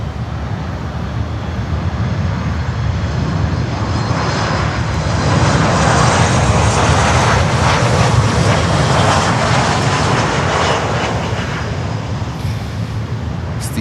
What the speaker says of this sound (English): But we also have Copa Airlines coming in.